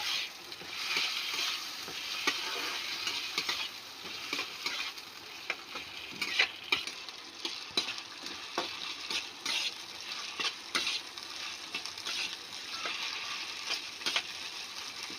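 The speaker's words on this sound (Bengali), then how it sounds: "টমেটোটা একটু ভেজে নিয়ে" Chopped tomatoes and green chillies frying in a pan with ginger-cumin paste for ghugni, a continuous sizzle broken by frequent spatula scrapes and knocks, close up and with no speech.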